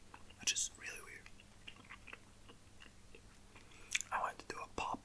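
Gum being chewed close up in a quiet ASMR setting, with soft wet smacking and crunchy bites coming in irregular bursts alongside intermittent whispering.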